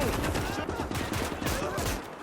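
Intense barrage of gunfire in the Call to Arms game, Scorched Earth siege of Sevastopol, rapid overlapping rifle and machine-gun bursts crackling nonstop with booming low thuds, loud and close.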